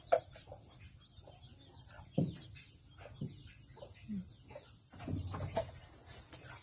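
A single chicken clucks on a farm in the Philippine countryside, giving a few short, soft clucks spaced apart, with other faint farmyard sounds around it.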